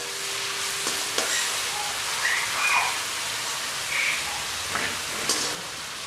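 One large onion fries in hot oil for a raw banana poriyal, producing a steady crackling sizzle with occasional louder spits and a few faint clinks.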